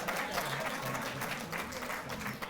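Steady applause from a seated audience at a felicitation ceremony honouring Asian Games 2022 medal winners, dense continuous clapping with a faint murmur of voices underneath.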